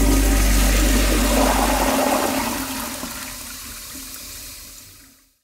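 A toilet flushes with a loud rush of water that gradually tapers off into a fading trickle over about five seconds, with no voices.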